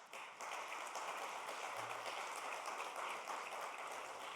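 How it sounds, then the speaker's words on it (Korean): Congregation applauding during a Sunday church service to welcome a ministerial candidate, a steady dense clapping that fills the room for several seconds. "일어나실 때 우리 큰 박수로 환영하겠습니다."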